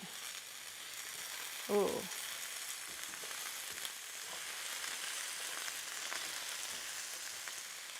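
Vegetables and butternut squash frying in a pan: a steady, close sizzle with light crackle throughout, one brief voiced exclamation near the start.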